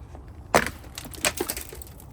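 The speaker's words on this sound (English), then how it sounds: "You heard that, there's glass flying." Several sharp cracks and crunches sound up close as a Chevrolet Silverado rear door window breaks, a loud break followed by a scattering of smaller clinks and rattles of glass pieces falling.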